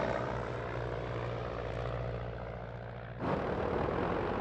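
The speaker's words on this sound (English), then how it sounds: "Gloucester Gladiators attacked the incoming German aircraft at terrible odds" Gloster Gladiator biplane fighters in an air battle give a steady droning propeller-engine roar that jumps abruptly louder and brighter near the end, with no voices.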